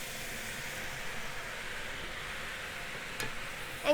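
Pork and cabbage sizzle steadily in a stir-fry pan for a Japanese miso dish, a soft continuous hiss at close range with a brief clatter near the end and no talking.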